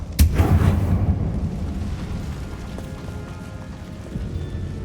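Confringo fire spell in the Hogwarts Legacy video game, a single sharp loud blast at the start followed by a long rumbling decay and lingering crackle.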